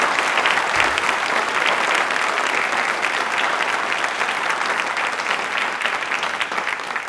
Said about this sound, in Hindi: तालियां तीनों के लिए जोरदार से भी जोरदार होनी चाहिए